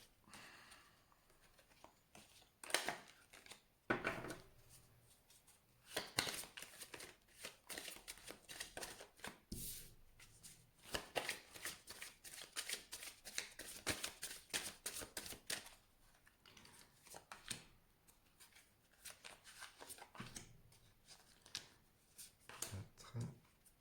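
Tarot cards being shuffled and drawn, close and quiet, with bursts of riffling and sliding cards and soft taps as cards are laid down, no voices.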